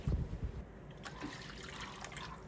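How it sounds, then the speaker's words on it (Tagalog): Water pours and splashes into a pan, a short, close, burbling rush that settles into a softer trickle. "At sa same na kawali ay maglagay na tayo dito ng tubig."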